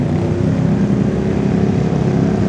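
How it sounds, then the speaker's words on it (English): Off-road vehicles riding at a bounty hole racing event, a loud continuous rumble of engines blending together at close to mid distance, with no talk over it. "Excuse the noise, everybody riding."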